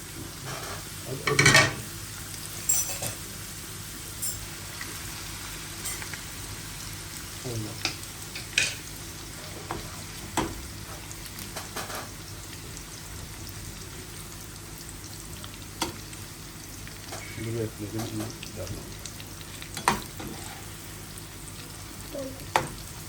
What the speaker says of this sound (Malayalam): ഇളം ചുവപ്പായതുകൊണ്ട് ഞാൻ വഴറ്റി മാറ്റി വയ്ക്കുന്നു